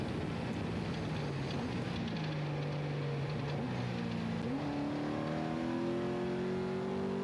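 An off-road race vehicle at the Baja 500 desert race passing by, engine droning and rising in pitch as it accelerates, heard from a distance under steady wind noise.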